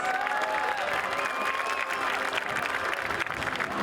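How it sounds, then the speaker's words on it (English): Sustained audience applause at a high school football game ceremony during the Bluffton Bobcats at Hilton Head Seahawks Bridge Bowl, a steady crowd wash of clapping with faint cheers and a background tone, continuous throughout. "Please give Bryce Singleton another round of applause."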